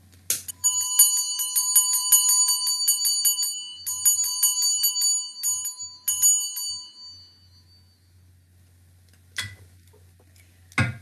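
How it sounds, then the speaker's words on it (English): A bell is rung to open a church service, giving a run of bright, rapid ringing strikes in bursts with pauses between them, then a few louder isolated clunks near the end. "ring the bell for us"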